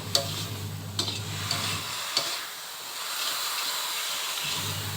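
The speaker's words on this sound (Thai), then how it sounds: "เสร็จแล้วก็ทำการผัดอีกครั้งหนึ่งครับผม" Small shrimp stir-fried with seasoning sauce in a pan hiss and sizzle steadily, broken by a few sharp scrapes and clinks of a spatula stirring, with a low burner hum that drops out midway and returns.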